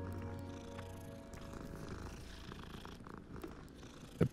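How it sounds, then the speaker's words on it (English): A cat purrs in the video game Hogwarts Legacy, a steady close rumbling that holds for a few seconds before a short thump at the end. "The purring."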